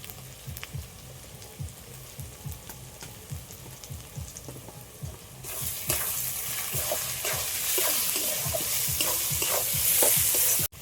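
Marinated mutton frying in a pan while being stirred, rhythmic scraping strokes over a sizzle that swells louder and brighter partway through, close-up and without any voices.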